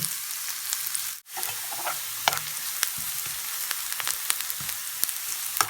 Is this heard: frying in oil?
yes